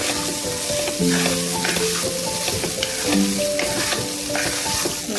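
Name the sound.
stirring cooked rice into jeera rice in a pan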